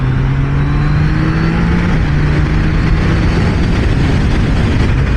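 Triumph Trident 660 three-cylinder motorcycle engine heard while riding, a loud steady drone mixed with rushing wind noise, pitch easing slightly as the bike cruises.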